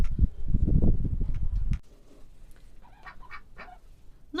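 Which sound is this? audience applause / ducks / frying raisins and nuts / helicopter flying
ducks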